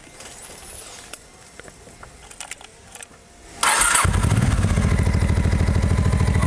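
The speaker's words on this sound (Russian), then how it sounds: "мы сейчас сядем на мотоцикл и немного прокатимся" A Honda motorcycle, parked all day in the rain, starts up after a few quiet clicks and handling noises, then settles into a loud, close, steady engine idle.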